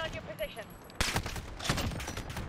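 Gunfire in the video game Modern Warfare, Special Operations mission Strongbox: a sharp burst at one second followed by rapid, dense shots continuing to the end, loud and close, with a faint voice beforehand.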